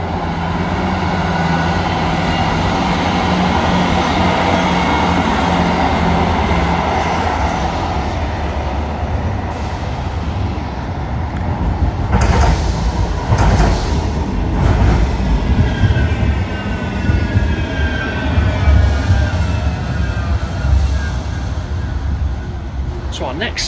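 A Manchester Metrolink tram passing, heard as a loud, continuous rumble of wheels on rail that swells midway with clattering and a high squeal, with a voice talking over part of it.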